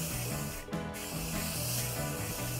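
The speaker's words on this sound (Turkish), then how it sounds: "Duvağa sadece saç spreyi sıkmamız yeterli." Hairspray is sprayed onto a bridal veil in a continuous close, loud hiss lasting over two seconds, broken by a brief pause, with background music underneath.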